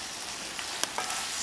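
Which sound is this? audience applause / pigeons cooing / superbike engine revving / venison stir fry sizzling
venison stir fry sizzling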